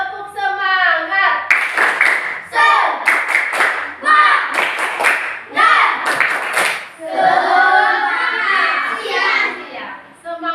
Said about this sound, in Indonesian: Coba kasih semangat dulu. Tepuk semangat.